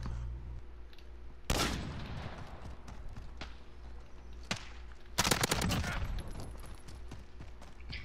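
Gunfire in a first-person shooter video game heard in two sharp bursts of rapid shots plus a few single cracks over a quiet, steady background hum.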